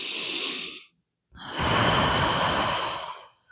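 An audible breath during a Pilates exercise: a brief exhale, a short pause, then a long, close, breathy inhalation lasting nearly two seconds, with no speech.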